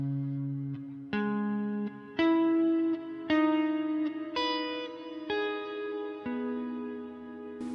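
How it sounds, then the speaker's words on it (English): An electric guitar plays a slow sequence of sustained notes through a Line 6 Helix legacy cave reverb, each note ringing out with a long, spacious tail and no voices. "So at the end, I've got a cave reverb."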